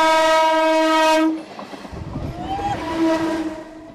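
A Mumbai commuter train sounds a long, loud, steady horn, then the horn cuts off and the rumble and clatter of the passing cars carry on, with a brief squeal near the end.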